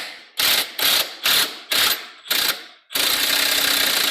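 A ratchet tightens a nut on a bolt through a Miata steering knuckle during a suspension bushing install. Five quick clicking bursts with brief pauses run into one longer, continuous ratcheting run, loud and close.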